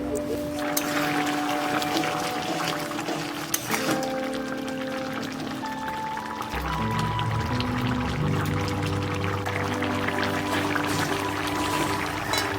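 Water is poured into a cooking pot of vegetable curry with ground nut paste, a steady close pour followed by lower, fuller liquid sounds as the pot fills.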